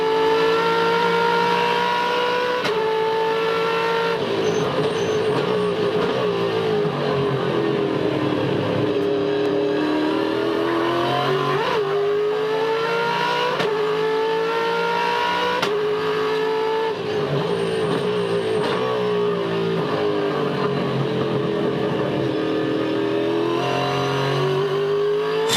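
International Supercars race cars circle the 2,400-metre Barbagallo Raceway in Perth during a 2012 race, with engines loud and continuous, revving and shifting gears as they accelerate and pass, with no talk.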